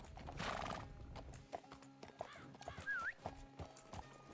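Horse in the game Red Dead Redemption 2 (RedM roleplay): a loud, rising whinny with hoof clip-clop, all over outdoor game ambience with some faint low voices.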